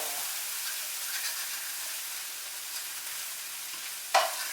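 Mexican-style corn sizzles in a skillet with parsley, a steady, soft frying hiss close by, with a brief clink of stirring near the end and no talk.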